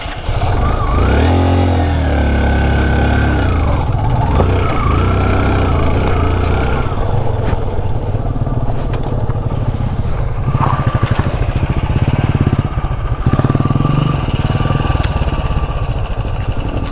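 A Yamaha RX motorcycle engine runs on an off-road estate trail, rising and falling in pitch as it revs early on, then settling into a loud, continuous rough drone close by.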